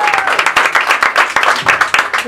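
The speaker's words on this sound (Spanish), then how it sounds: "Fuerte el aplauso" Loud applause fills a mariachi birthday party, with dense rhythmic clapping rising and falling in bursts and some voices mixed in.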